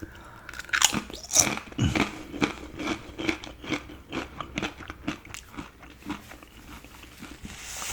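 Close-up chewing of crunchy tortilla chips dipped in salsa, with sharp bites followed by a rapid run of wet crunches and mastication, loud and intimate, with no talking.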